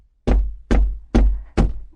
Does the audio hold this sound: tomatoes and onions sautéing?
no